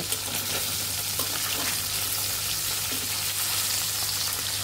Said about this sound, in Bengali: আমরা সবকটি মাছ দিয়ে দিয়েছি। এখন মাছগুলো আমরা উল্টিয়ে নেব।